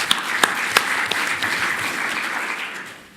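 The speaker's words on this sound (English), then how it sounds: "Big round of applause to all of our elected speakers" Applause from a conference audience at a plenary session, steady broadband clapping with a few sharp individual claps standing out early, fading slightly toward the end.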